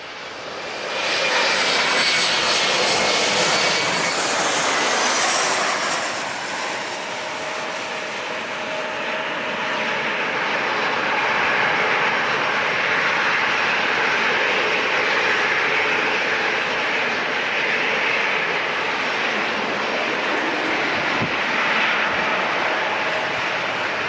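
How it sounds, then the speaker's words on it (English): An Embraer E-175 jet airliner passing at San Diego International Airport: a loud engine roar swells quickly, peaks early, then settles into a sustained whining rumble that lingers as the plane moves away, with no talking. "let's catch this little rat plane, the E-175, right here"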